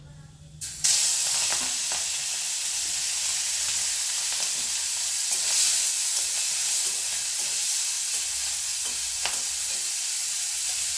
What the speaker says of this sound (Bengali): এবার চিংড়ি মাছগুলোকে ভেজে নিচ্ছি